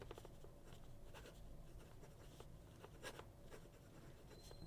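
Fountain pen nib with an oxblood finish writing on paper, quiet scratchy strokes recurring in an irregular rhythm, close and faint with no talking.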